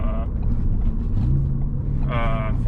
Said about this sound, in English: That was heel toe downshifting.